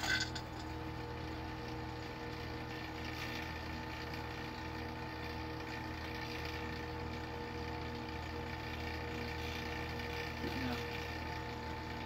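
A steady, low mechanical hum from an air-conditioning vacuum pump drones on without change, quiet and unbroken, with no one speaking.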